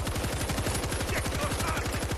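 Automatic gunfire rattles loudly in a video game as one continuous, rapid burst of shots fills the whole moment.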